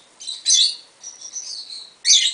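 A Lutino lovebird (Agapornis) being given head scratches lets out short, high, close chirps in three quick bursts, with soft squeaky twittering between them.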